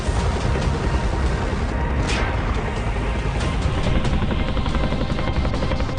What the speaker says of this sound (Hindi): कॉम्बैट हेलीकॉप्टर चिनूक की गड़गड़ाहट गूंज रही है।